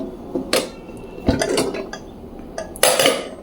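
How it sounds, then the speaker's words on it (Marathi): A pressure cooker being opened: a few close metallic clanks and scrapes of the lid against the pot, spaced irregularly over quiet room noise. "आता कुकर ओपन करूया"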